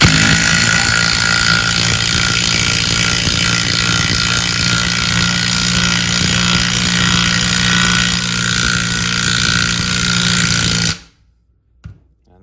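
A cordless DeWalt impact driver driving a bolt, hammering steadily for about eleven seconds in a continuous rattling burst, then stopping abruptly into near silence.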